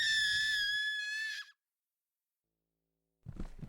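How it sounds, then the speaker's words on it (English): Frantic high-pitched screams from a crowd hiding in an inn storeroom during a vampire horde attack in a fantasy audio drama, loud and sustained for about a second and a half, then silence before low rumbling sounds. "Frantic screams filled the air."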